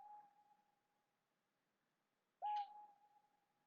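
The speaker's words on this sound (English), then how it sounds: "Oh, it's like a weird owly bird." Within the Code: Realize video game's forest scene, an eerie owl-like bird call rings out: a thin steady hoot-like tone that fades in, drops away, then returns with a sudden loud burst before sustaining again, with no voices over it.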